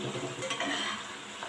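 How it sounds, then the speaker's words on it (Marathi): Homemade French fries sizzle in hot oil over a high gas flame, a steady crackling hiss with light stirring and a sharp clink at the end. "शक्यतो फास्ट गॅसवरच फ्राय करून घ्या"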